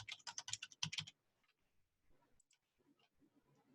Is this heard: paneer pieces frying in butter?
no